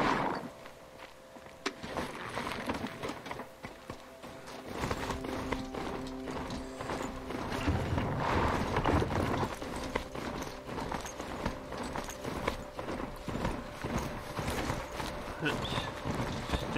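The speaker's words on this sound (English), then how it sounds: "I've got a robot horse." Hooves of a robot horse in the Horizon Zero Dawn video game clop in a steady walking rhythm with faint mechanical whirring, set among game ambience while someone talks over it intermittently.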